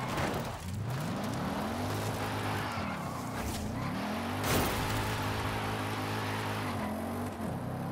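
A 2020 Lexus RC F Track Edition in Forza Horizon 5 revs up through the gears, engine pitch climbing and dropping with each shift, with tire squeal and skidding over a steady loud drone.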